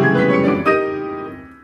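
Fast split octaves on a piano, with the hands alternating at full speed, produce a bright rapid run of ringing notes that blurs together and then decays into sustained resonance.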